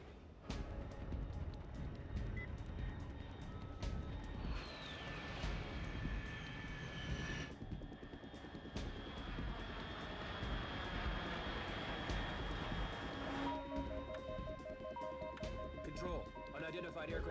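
In the video game Metal Gear Solid 3, an aircraft drones steadily overhead in a continuous, fairly faint engine hum under a busy mix of other tones, while voices talk over it.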